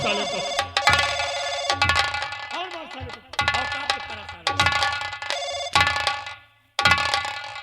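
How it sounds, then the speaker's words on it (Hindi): A telephone rings loudly and repeatedly in bursts of electronic bell tones, with short gaps between rings, close and clear. "तेरे बाप का फोन आ रहा है रे, उठा।"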